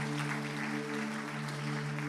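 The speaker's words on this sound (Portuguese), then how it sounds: "dar ao Senhor a sua melhor salva de palmas" A church congregation applauds in a steady, even wash of clapping, heard at a moderate distance over a sustained low tonal hum.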